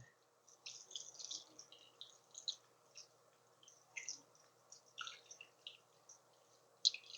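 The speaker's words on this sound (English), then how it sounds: "I'm going to just keep rinsing these off for a little bit." Small parts being rinsed with warm distilled water during silver cell production, with faint scattered drips, trickles and light clicks in a quiet room.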